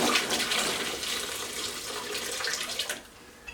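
Water splashes and gushes steadily while a glass crabapple wine bottle is rinsed out during bottling, a close, continuous watery rush that tapers off near the end.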